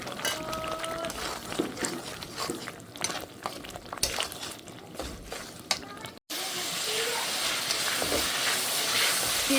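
A paste of onion, green chili, ginger and cumin fries in a pan, giving an uneven sizzle with stirring scrapes that swells into a louder, steady hiss near the end.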